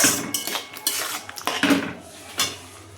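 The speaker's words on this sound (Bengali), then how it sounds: "চলো মশলাটা একটু ভালো করে কষিয়ে তোমাদের দেখাচ্ছি" A metal spoon scrapes and knocks against a pan while a spice paste is sautéed and stirred, several quick clattering strokes close by with a soft fry underneath.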